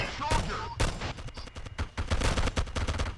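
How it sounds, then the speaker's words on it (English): Rapid bursts of gunfire crackle and boom in quick succession, dense and loud, with a faint voice briefly underneath. "the gunshots are so scary"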